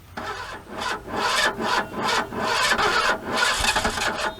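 An engine cranks repeatedly without catching, giving rhythmic grinding pulses of starter churn that are close and continuous across the clip.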